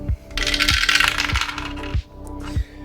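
Two dice rolled during a solo board game session of Vantage clatter and rattle across a surface for about two seconds, with a few sharp knocking impacts, fairly close and loud with no talking.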